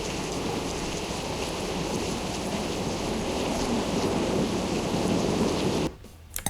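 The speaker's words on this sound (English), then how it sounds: "It sounds more like a river, not a canyon." Continuous rushing, river-like roar of a canyon ambience in an endless runner video game, broad and steady for about six seconds before cutting off abruptly.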